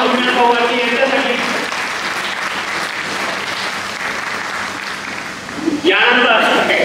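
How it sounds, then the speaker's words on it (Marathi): Crowd applause and cheering at a Vanchit Bahujan Aghadi party workers' rally in Chandrapur, a loud, dense, sustained clapping that briefly dips before surging again, with a voice speaking over the start and the end. "परत एकदा जोरदार टाळ्या होत्या"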